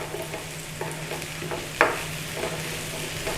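Onion and bacon fry in a pan, giving a steady close sizzle with soft scraping stirs and one brief sharp clack partway through.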